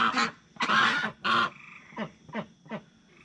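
Several harsh quacks close by, three loud ones followed by fainter, shorter calls in an uneven rhythm.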